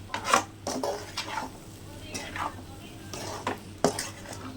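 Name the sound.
stirring pepper powder into egg podimas in pan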